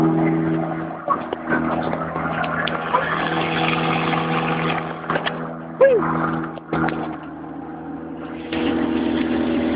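A car engine idles and revs right after its first start, a steady close droning hum with harmonic tones and occasional shifts in pitch; people talk over it.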